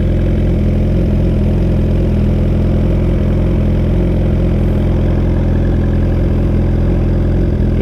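A 2021 Suzuki GSX-R1000R with a Brocks full exhaust and ECU flash runs steadily, a loud, close, continuous low engine drone with a deep throbbing rumble and no speech.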